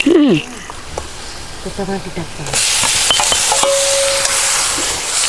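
Oil tempering sizzles loudly in an iron kadhai on a village wood-fired chulha while thecha chutney is prepared, a steady close hiss with stirring clatter that follows a woman's brief speech.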